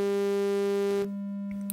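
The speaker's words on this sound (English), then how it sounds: "sawtooth wave" A bright, buzzy sawtooth test tone from a signal generator holds steady for about a second, then drops to a softer, purer hum, with no talking.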